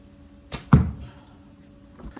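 A warbow shoots a heavy 920-grain Hector Cole Type 7 diamond-section needle bodkin arrow at mail over a 30-layer linen gambeson. A brief whoosh is followed by one loud, close thud as the arrow glances off the padding.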